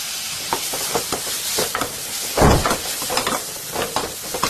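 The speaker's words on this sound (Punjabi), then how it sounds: "ਫਿਰ ਇਹਦੇ ਵਿੱਚ ਪਾ ਦਿਓ ਕੱਟੇ ਹੋਏ ਟਮਾਟਰ" Chopped tomatoes hit hot oil in a Punjabi spiced tadka with turmeric, red chilli powder and dried fenugreek, giving a steady close sizzle with stirring clatter and a loud burst of frying around the middle, with no talk.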